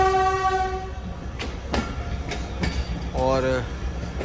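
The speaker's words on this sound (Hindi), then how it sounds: "ट्रेन यहाँ पर मौजूद है जिसके व्हील्स आप देख सकते हैं कि कैसे चमक रहे हैं" Train at a railway station in Pakistan on the Nawabshah to Karachi route, with a long horn blast at the start, clanking and rumble of the train, brief tonal whistle-like squeals, and busy platform background throughout.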